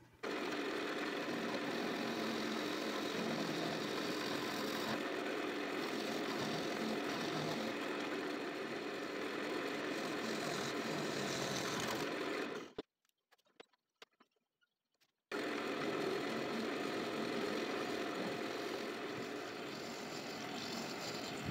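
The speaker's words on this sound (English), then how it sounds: "Here I'm just using my carbide round cutter. It seems to be cutting this resin and this ingrain of this limb back really nice." Carbide round cutter on a wood lathe shaving a spinning blank of resin and tree limb, a steady loud whirring cut with a scraping edge that stops for about two seconds midway, then resumes at full level.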